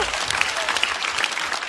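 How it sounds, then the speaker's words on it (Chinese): A studio audience at a stand-up comedy show claps loudly and continuously, a dense close burst of applause with no voices over it. "再次掌声"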